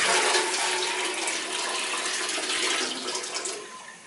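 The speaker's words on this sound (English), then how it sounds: "I'm just going to show this by pouring it down where it belongs in the toilet" Dirty water from a water-filter vacuum cleaner pours into a hotel-room toilet in a steady, loud, splashing gush that tapers off near the end.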